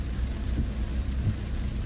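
Steady heavy rain pours down continuously in Bohol, Philippines, heard from a tricycle, a dense broadband hiss with a low rumble underneath, no voices.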